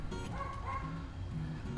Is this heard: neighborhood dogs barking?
yes